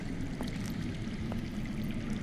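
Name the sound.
underground water flowing, from Game of Thrones video game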